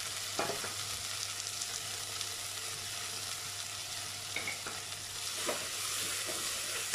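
Tomatoes and salt sautéing in a pan for Madurai-style beef biryani give a steady close sizzle and frying hiss with occasional stirring scrapes, running alone without any talk.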